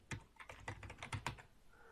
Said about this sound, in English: if I type in sudo user add and then the account that I want to create